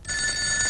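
A house telephone gives a brief, steady electronic ring in a Telugu comedy film scene, a single short ring heard alone and fairly faint.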